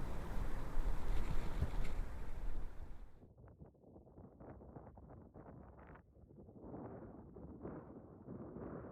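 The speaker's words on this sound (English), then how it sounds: "it's pretty breezy." Gusty outback wind buffets the microphone with a loud broadband roar for about three seconds, then drops to a lower, fluctuating rush with intermittent gusts.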